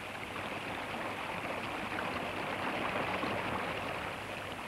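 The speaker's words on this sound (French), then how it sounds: "Mais bientôt, le lit du torrent s'organise et se creuse." Mountain torrent rushing steadily over a rocky bed, a dense, continuous roar of flowing water heard close and evenly throughout, with no voices.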